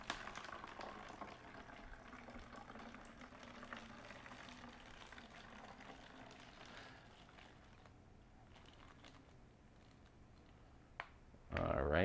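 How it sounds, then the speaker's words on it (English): Water from a measuring cup poured into a plastic bottle, a steady liquid trickle and gurgle at close range that thins out toward the end and is cut off by a sharp louder knock. "we are going to add in a cup or 8 ounces of water into our bottle"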